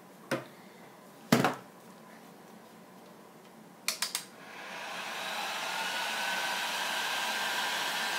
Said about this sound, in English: I'm going to go ahead and hit this with the heat gun.